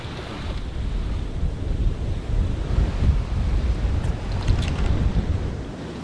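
Ocean waves along a seaside in Haiti, a steady rushing surf with wind buffeting the microphone, fairly close and continuous throughout, with no voices.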